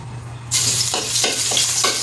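Corned beef sautéing in a hot pan: after half a second of near quiet, a loud, steady sizzle starts and carries on close by, with brief stirring scrapes through it.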